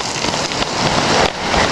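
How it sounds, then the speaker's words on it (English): Hail and heavy rain pelt down around a house during a severe thunderstorm, a loud dense roaring patter with brief dips and surges, close and continuous, no voices heard. "Oh, it's hailing."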